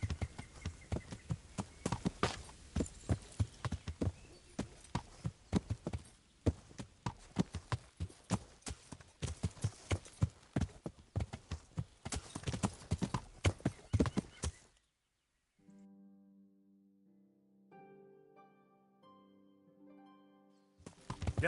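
Horse hooves clip-clop steadily in the medieval game Kingdom Come: Deliverance, a fast, continuous trot that stops abruptly and gives way to a quiet tonal passage.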